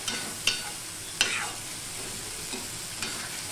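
Masala bhindi, okra with spices, frying on high flame while a spatula stirs it; a continuous sizzle runs throughout, broken by a few sharp scraping strokes, close up with no voices.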